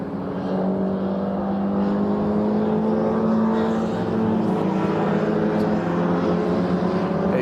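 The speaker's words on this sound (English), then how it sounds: "It's the blue and white car thumping around at the minute." MG Car Club race cars run at Brands Hatch, a loud, sustained engine roar with steady droning tones that shift slightly in pitch as the cars pass along the circuit.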